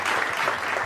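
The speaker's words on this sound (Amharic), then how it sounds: "አጨብጭቡ ለራሳችሁ።" Studio audience clapping for two contestants after a cooking competition round, a dense steady burst of applause filling the whole moment with no voices on top.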